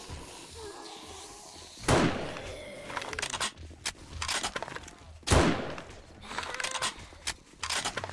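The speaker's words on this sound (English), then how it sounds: "I fire and miss by a mile." Two sharp gunshots ring out a few seconds apart in 7 Days to Die, each followed by scattered clatter and softer impacts at moderate loudness.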